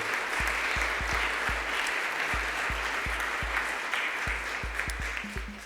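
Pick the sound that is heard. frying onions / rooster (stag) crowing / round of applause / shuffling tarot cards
round of applause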